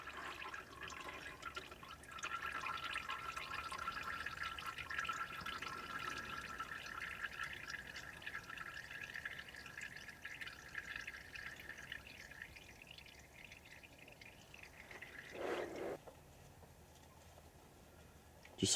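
Engine oil trickling from a removed oil filter on a 2016 Kia Sorento during an oil change, a steady faint liquid patter running for a long stretch before tapering off.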